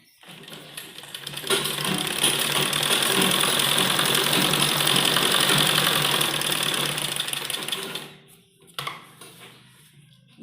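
Sewing machine stitching a kurti, a steady fast mechanical whir that runs close and loud for several seconds, then stops, followed by a few faint clicks of the machine being handled.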